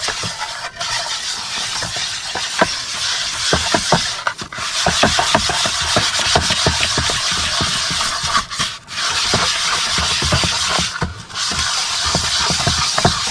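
Pieces of snakehead fish are mixed with salt by hand in a container, giving steady close scratching and rubbing sounds with short pauses, no talking.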